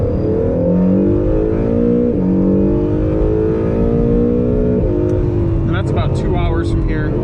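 An Acura NSX sports car is driven hard around Gingerman Raceway, its engine droning loudly from inside the cabin through steady gear-held pulls and brief shifts, someone talking over the engine throughout.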